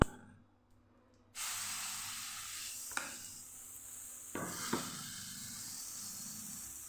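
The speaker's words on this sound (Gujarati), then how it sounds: "પાછું થોડું તેલ લગાવું છું હું અને થોડું બેટર આપણે પાછું ઉમેરશું" Oil and mixed-dal chilla batter meet a pan over a low gas flame. After a quiet opening, a soft sizzle suddenly swells and keeps going, broken by a few small clicks and scrapes.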